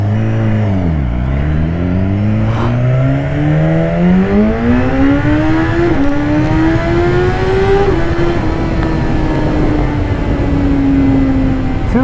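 A 2015 BMW S1000RR motorcycle with an aftermarket exhaust accelerates hard, its loud engine note climbing steeply through two quick upshifts and then holding a high, steady whine, with no talking.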